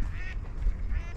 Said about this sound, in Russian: Кря-кря-кря там.